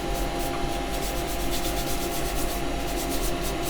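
A brass wire brush rubs hard against sandpaper on a spinning woodturning lathe, a loud continuous abrasive scrubbing over the machine's steady hum.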